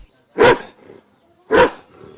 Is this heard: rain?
no